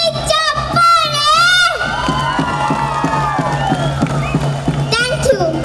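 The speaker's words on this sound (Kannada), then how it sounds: "ಮತ್ತೆ ಬರ್ಲಿ ಚಪ್ಪಾಳೆ." An audience at a Vijaya Games team cultural show cheers loudly, with high whooping shouts and children's cries rising over a continuous crowd roar.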